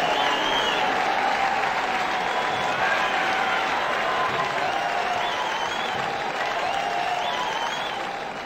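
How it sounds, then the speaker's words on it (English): Darts video game crowd giving a standing ovation, a steady roar of clapping and cheering that stays dense and loud throughout before tapering slightly at the end. "standing ovation"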